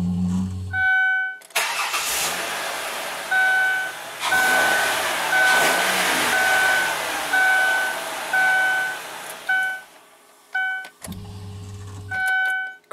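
A 2002 Ford Windstar LX with a suspected fuel pump fault cranks and struggles to start, the starter churning loudly in long and short bursts with a steady whine, between quieter moments of rough idle.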